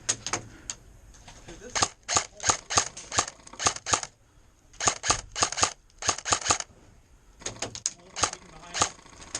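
An airsoft SA58 FAL rifle fitted with a suppressor fires in quick bursts of sharp, clacky shots with short pauses between groups.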